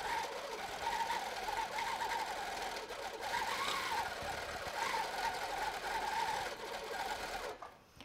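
A Baby Lock Regent sit-down long-arm quilting machine stitching at high speed, a rapid, continuous mechanical whirring and clatter that runs steadily for several seconds before cutting off at the end.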